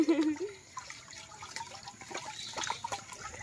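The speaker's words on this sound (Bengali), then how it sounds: "দেখুন চাইল ধোয়া হচ্ছে" Water splashes and trickles as rice is washed in a Sundarbans village, a soft, uneven sloshing that follows a brief voice at the start.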